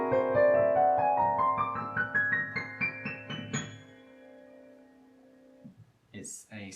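A whole tone scale rises note by note on a sustained instrument over a held low tone. It ends on a lingering chord before a short, quiet pause and a brief voice.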